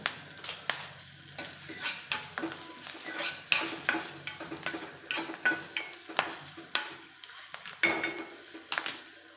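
Green chilies and curry leaves sauté in hot oil in a pan for a seed chutney, a soft steady sizzle punctuated by regular scraping stirs and metal spoon knocks against the pan, close and alone.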